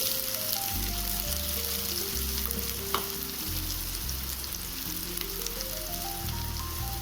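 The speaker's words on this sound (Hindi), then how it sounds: "चलिए तेल हो गया है गरम, तो यहीं पे डालते हैं बारीक चॉप किया हुआ प्याज।" Finely chopped onion fries in hot mustard oil, giving a dense, constant loud sizzle that runs unbroken throughout, with a low tonal hum underneath.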